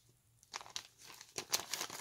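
Crinkly crackles come from the stiff back cover of a handmade cottage-garden journal being handled close up, a quiet rustle that grows into a series of sharper crunches.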